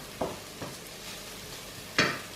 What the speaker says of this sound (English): I'm sauteing off the spring onions and mushrooms